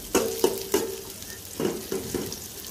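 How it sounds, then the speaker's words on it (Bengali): Garlic, onion and dried chili frying in oil for tempering greens, a soft steady sizzle broken by six sharp scraping strokes of a spatula in two groups of three, close by, with no talking. "এখন আমি রসুন পেঁয়াজ আর শুকনো মরিচ দিয়ে বাগার দিব শাকটা"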